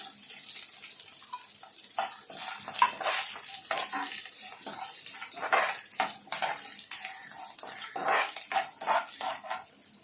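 Irregular scraping and clinking of a utensil stirring roasted peanuts in a metal pan for kanda poha, close up, in uneven bursts with no talking.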